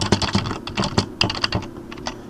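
Quick, close computer keyboard typing while filling in an e-fax cover sheet in a FreePBX phone system, with rapid clusters of sharp key taps and brief gaps between bursts.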